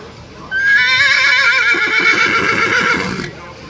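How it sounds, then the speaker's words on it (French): Horses neigh loudly at a Corsican horse show, a long, close, wavering whinny that rises and trembles for nearly three seconds before cutting off, over a quieter background murmur. "Tous les chevaux qui ont participé au concours, Fadeo Biaggi, Angeli, Alba"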